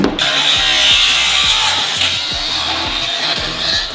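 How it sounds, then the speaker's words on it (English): A high-pitched motor whines steadily and close up, with rhythmic grinding knocks underneath as a drill bores a hole through ice on a frozen lake. "Just go right down in there, drill a hole in the ice."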